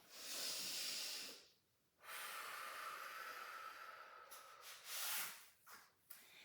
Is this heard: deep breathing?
yes